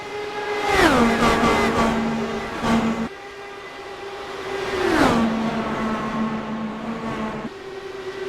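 Race cars on an oval track, two passing close one after another with sharp downward Doppler sweeps in engine pitch, loud high revving engines fading into a sustained drone between passes.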